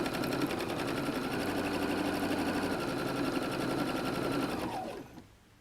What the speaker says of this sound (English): we're going to sew down the length of the entire strap with that 5/8 inch seam